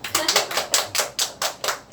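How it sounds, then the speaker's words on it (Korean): Audience members at a call-centre telemarketing sales lecture clap in a tight, even rhythm, about nine sharp, close beats in two seconds, with no talk over them. "박수 한번"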